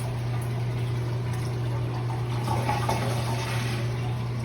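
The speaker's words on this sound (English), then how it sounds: "Flush the water down." A toilet flushes while its handle is being replaced, a steady rush of water running continuously, close and loud with a constant low hum beneath it.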